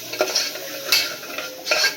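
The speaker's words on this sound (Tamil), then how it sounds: "மிளகாத்தூள் சேர்த்து நல்லா வதங்க விடலாம்." Chili powder frying with vegetables in a pan for vegetable kurma, a close hiss of sizzling oil punctuated by a few bright scraping stirs of a spatula against the metal, no voices.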